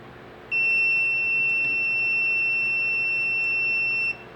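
A multimeter in continuity mode gives a steady, loud beep while probing the windings of a microwave oven transformer. The single tone rings unbroken for about three and a half seconds over low background hum, with no voices.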